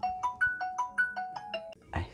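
A phone ringtone plays a bright, repeating electronic melody of even beeping notes, fairly close, that cuts off abruptly with a brief rustle at the end.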